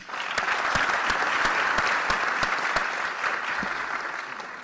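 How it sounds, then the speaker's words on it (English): Sustained applause from the audience at a university Charter Day ceremony honoring honor societies, steady dense clapping with a few sharper individual claps standing out, loud and unbroken before slowly tapering at the end. "Let's give all our honor societies another round of applause."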